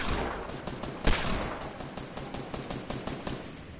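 Fortnite gunfire crackles in rapid bursts of sharp shots at moderate volume, led by one louder blast, with no voices over it.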